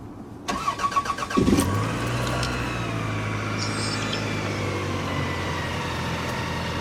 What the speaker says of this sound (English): let's go ahead and start it up so you can hear the exhaust